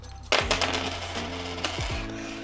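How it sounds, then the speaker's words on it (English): Coins drop into a zip wallet, a burst of bright metallic clinks and jingles at first, then a few more scattered chinks as the coins settle, close and clear with no talk. "because you just want to put your coins inside."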